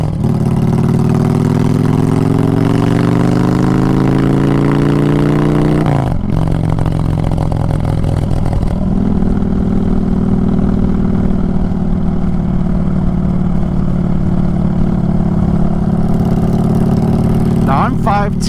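A 2022 Honda Fury cruiser motorcycle engine rumbles loud and steady, rising in pitch as it accelerates, then settling into a constant drone with a brief drop near the middle.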